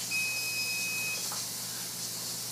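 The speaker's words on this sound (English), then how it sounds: "timer's going off." Kitchen timer beeping during pressure canning, a steady high electronic tone lasting about a second over a constant hiss of steam from the canner, then only the hiss continues.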